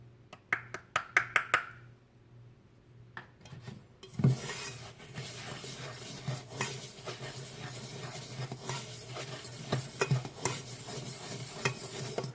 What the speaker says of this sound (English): Now we're going to put our cocoa powder into it.